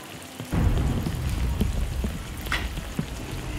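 Steady rain falls in a dense, even wash, rising to a heavier, closer downpour after the first half second and holding loud to the end, with scattered drop taps on a hard surface.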